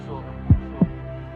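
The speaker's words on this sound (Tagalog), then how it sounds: "Humihina ang beat, naiwan ang piano at tibok ng puso." Heartbeat sound effect in a tribute music track, two deep, muffled thumps in a single beat, loud against a soft sustained piano background.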